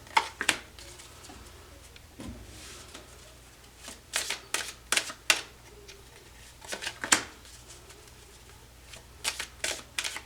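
Tarot cards shuffled by hand during a reading, crisp riffles and flicks in irregular bursts close up, with brief pauses between them and no talking.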